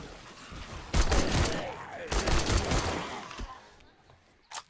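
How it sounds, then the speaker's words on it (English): A machine gun fires at zombies in 7 Days to Die: two dense, rattling bursts of gunfire sound close and loud, then fade. A sharp final crack follows. "Okay, I'm pulling out the machine gun."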